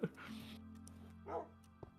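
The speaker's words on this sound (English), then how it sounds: "Wait, is my dog getting hurt?" A dog in the Minecraft video game whimpers in short, high cries over steady low game music, with a brief sharper yelp near the end.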